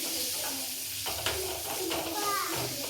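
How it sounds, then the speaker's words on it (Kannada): Onion, garlic and ginger frying in oil in a pan, giving a steady low sizzle with occasional stirring scrapes, while a person talks over it throughout. "ಈಗ ಸ್ವಲ್ಪ ಎಣ್ಣೆ ಹಾಕ್ಕೊಂಡು ಫ್ರೈ ಮಾಡ್ಕೊಳಕತ್ತಾರು"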